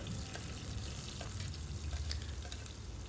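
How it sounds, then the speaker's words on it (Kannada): Sliced onion frying in hot oil as part of a mushroom biryani, giving a steady, dense sizzle and crackle with light stirring scrapes throughout, close and unbroken, no voices. "ಸ್ಲೈಸಾಗಿ ಕಟ್ ಮಾಡಿ ಹಾಕೊಂಡ ನಂತರ ಅದು ಫ್ರೈ ಆಗಿ ಕಲರ್ ಚೇಂಜ್ ಆಗೋವರೆಗೂ ಫ್ರೈ ಮಾಡ್ಕೊಳ್ಳೋಣ"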